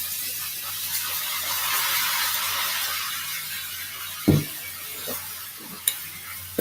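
Chicken wings frying in a pan: a steady, soft hiss and sizzle of hot oil running throughout, with a few sharp clinks and bumps of utensils near the end.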